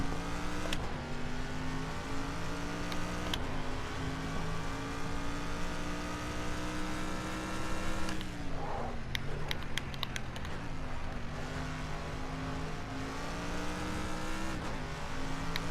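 A GT3 race car engine in a video game drones at sustained high revs around a touring-car-style track, with downshifts, a brief burst of tire squeal and clatter mid-way, then steady acceleration.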